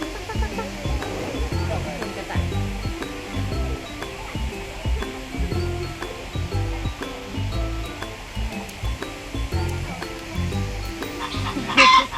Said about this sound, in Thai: ว้ามีนกด้วยแล้วก็มีไก่